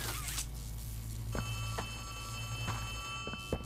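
A phone rings in the horror video game Poppy Playtime Chapter 3: an electronic ringtone begins partway through and repeats with clicky game sounds in the background.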